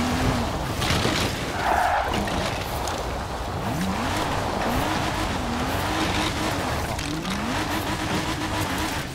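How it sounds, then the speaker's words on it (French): Small remote-control Lego car driving fast, its motor whining in rising and falling pitch sweeps as it accelerates and eases off, steady and fairly close throughout. "c'est une voiture folle."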